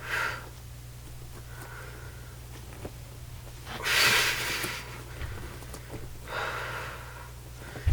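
Breathing during leg lifts in an at-home core workout: soft, close exhalations and sniffs recur in a few separate puffs, the strongest one mid-way, over a faint steady background hum.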